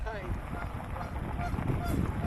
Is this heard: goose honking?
yes